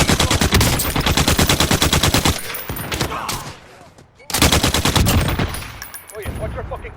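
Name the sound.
gunfire in the video game Warzone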